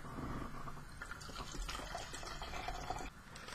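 Water running and splashing while a G Fuel shaker bottle is rinsed, a continuous close gushing with small drips and knocks that drops off near the end.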